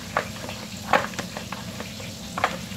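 Chicken in a wire basket fries in hot oil with a steady soft sizzle, broken by a few sharper splashy crackles as the basket is swished and flipped up and down.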